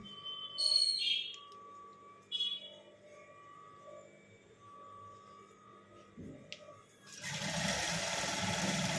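An electric sewing machine stitches a fall onto a sari, a quiet steady motor hum with brief higher whines, ending in a louder burst of noise.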